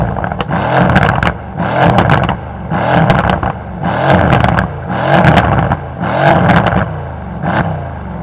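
Mercedes C63s AMG with a sports exhaust revved hard in repeated bursts, about seven sharp throttle blips each rising and falling with a crackling, popping edge, close and loud.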